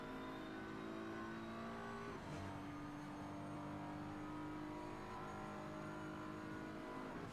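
GT race car engine in Assetto Corsa Competizione at the Zandvoort circuit, a steady high engine drone with one sharp gear shift partway through, continuous and close throughout without voices.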